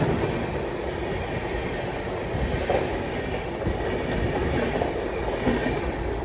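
The New Delhi–Kathgodam Shatabdi Express, heard as a steady, loud rumble of a moving train with a continuous rattle and faint clatter of wheels on rail throughout.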